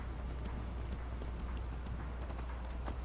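Horse hooves clip-clop steadily in the video game Skyrim, a quiet, continuous rhythmic patter of footfalls over a low hum, with no speech over them.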